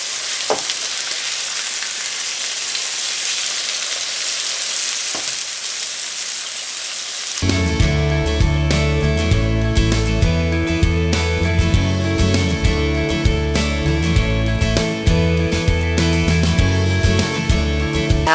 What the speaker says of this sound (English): you want to sear the outside of the burger to keep the juices inside